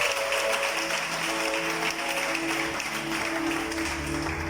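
A church congregation applauds in praise, a steady dense wash of clapping heard from within a large gathering, with faint musical tones underneath.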